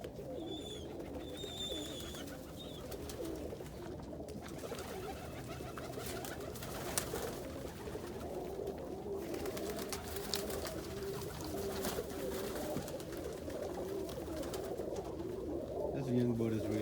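Pigeons cooing in a loft, soft repeated coos close by and fairly quiet, heard under someone talking throughout.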